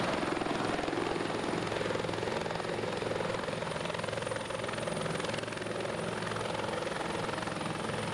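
Helicopter in the Arma 2 military game hovering and setting down, its rotor and turbine roar a loud, continuous wash that stays steady throughout, with no talking.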